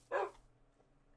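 A single short dog bark from a Minecraft dog, quick and soft, followed by near silence.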